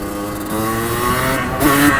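Rieju RRX motorcycle engine revving up for a wheelie, a steady close motor drone rising into a brief sharper surge near the end, with no speech.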